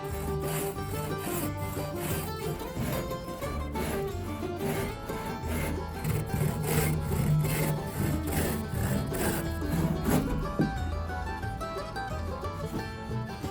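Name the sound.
cutting excess wood off diagonal braces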